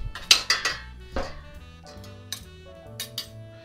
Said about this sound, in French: donc on continue encore à mélanger.